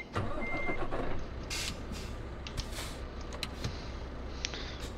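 A heavy truck loaded with 17 tonnes of furniture pulls away in Euro Truck Simulator 2, its steady engine rumble running throughout with a few short reversing-style beeps and mechanical clicks over it.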